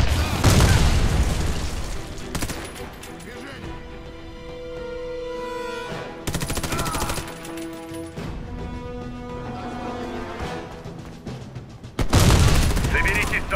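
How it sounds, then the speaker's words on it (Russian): Grenade blast in the Warface shooter game: heavy booming bursts open and close the stretch, with a loud blast at the start and another near the end, separated by tonal game music and effects, with voices heard. "Граната!"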